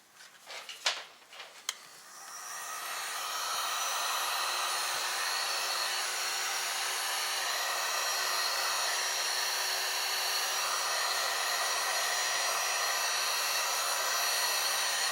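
A heat gun blows steadily while warming vinyl wrap on a BRP Oxygen motorcycle helmet, starting after a few brief clicks and handling knocks, then holding a loud, even, continuous rushing hiss to the end.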